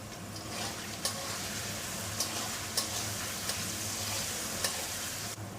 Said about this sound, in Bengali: আলুটা এবার ভেজে নেব